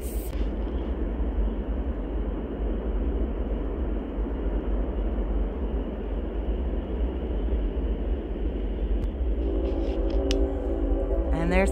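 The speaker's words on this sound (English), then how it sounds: "And there's the train again." A train rumbles past steadily, a loud, continuous low roar with rail noise that holds for the whole stretch, with a few brighter tonal squeals near the end.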